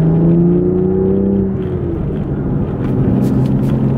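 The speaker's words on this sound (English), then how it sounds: "Let's actually drive the car." BMW M2 driving on the road, a loud, close engine and tyre drone from inside the car, with the pitch easing as it settles to a steady cruise and faint clicks toward the end.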